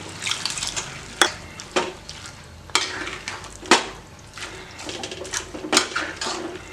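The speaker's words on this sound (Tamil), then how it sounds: "இந்த பருப்புலேயே கொஞ்சமாக தண்ணி ஊற்றி இதில் ஊற்றிடுங்க" Water poured into cooking lentils in a pan, with splashing and clinking pan sounds, several sharp metallic knocks at irregular intervals, close and fairly loud.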